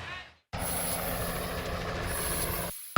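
A news helicopter flies over the state fair park, a steady loud rotor and engine roar that cuts in abruptly after a short break and drops out near the end.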